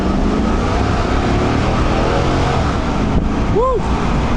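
A 2002 Chevrolet Camaro Z28 convertible taking a tight turn, its engine a steady loud drone with road and wind noise. A brief rising-then-falling whistle-like tone appears near the end.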